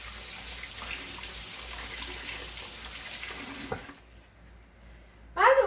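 Water from a kitchen tap runs steadily as hands are washed after preparing Dr Pepper baked beans, a continuous rushing hiss that drops away near the end before a short louder splash.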